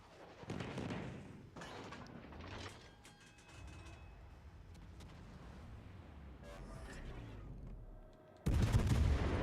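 Warship guns fire in World of Warships: Legends, with heavy booming salvos and a loud blast at the end among mechanical clanks and rumbling game effects.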